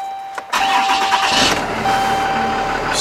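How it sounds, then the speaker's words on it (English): A 2011 Dodge 5500 4x4 bucket truck with an Altec AT40MH boom cranks over and its engine catches, settling into a steady, loud idle close by. "Start the truck."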